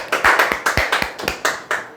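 About nine evenly spaced, crisp hand claps ring out loud and close, like a single person applauding.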